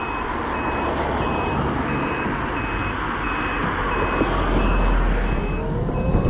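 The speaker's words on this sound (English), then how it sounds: "Beep beep." Vehicle reversing alarm beeping at a steady regular rhythm, moderately distant, over a constant loud rumble of road traffic and engine noise near a roundabout.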